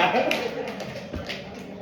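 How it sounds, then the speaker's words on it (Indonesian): Applause from a seated audience of men and women at an Alphatera product demonstration, a short burst of scattered hand claps following a speaker's call, moderately faint and thinning out over about two seconds. "Tepuk tangan untuk Alphatera."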